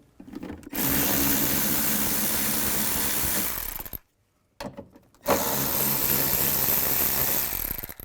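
Hand tool work on a Nissan Xterra rear door, removing screws with a 10mm socket: steady dense mechanical noise, a silent gap near four seconds, then the noise resumes loud and close.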